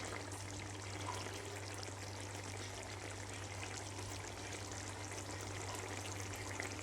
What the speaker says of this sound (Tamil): பாருங்கள், நல்லா கொதியுது.